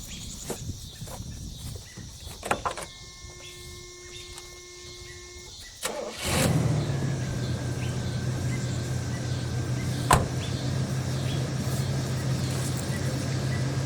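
A 1972 Oldsmobile Cutlass convertible engine cranks briefly, catches and settles into a steady, loud idle that runs on after some quiet shop noises and clicks.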